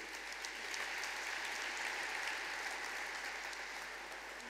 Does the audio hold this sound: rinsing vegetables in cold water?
no